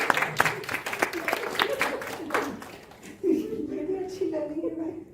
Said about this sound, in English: A big round of applause for Pooja ji there.